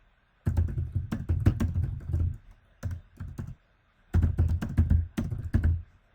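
Rapid bursts of keystrokes on a computer keyboard, clicking in quick clusters separated by short pauses, close and fairly loud with no voices.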